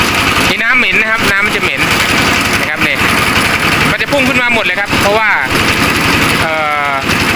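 Engine-driven air blower flushing out an old, low-yield borehole well: a loud, steady mechanical roar with rhythmic pulsing runs throughout, while someone talks over it.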